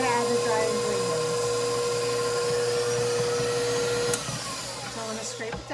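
A stand mixer whirs steadily while mixing s'mores cup batter with vanilla sugar, a loud continuous motor hum that drops off near the end, with a person talking over it.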